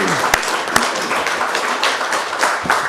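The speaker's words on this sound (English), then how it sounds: "If we could get a round of applause again for these guys" An audience at a village council meeting gives a round of applause, a dense steady patter of clapping hands with a few sharper claps standing out, moderately loud throughout.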